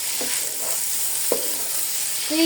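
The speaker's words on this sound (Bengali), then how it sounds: "তো আমার এই চালটা আমি ভেজে নেব। লাল চালটা একটু ভাজলে পোলাওটা একটু ঝরঝরা হয়।" Red polao rice fried in a pan, a steady soft sizzle with a few light scrapes of stirring and a brief clink near the end, no voices.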